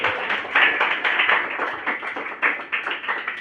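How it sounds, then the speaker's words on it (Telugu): A church congregation clapping loudly together in a steady, fast rhythm of bright, sharp claps, close and sustained throughout, with no talking. "నమ్మిన వారికి గట్టిగా చప్పట్లు కొట్టండి."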